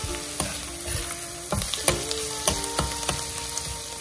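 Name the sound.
ginger and garlic frying in a pan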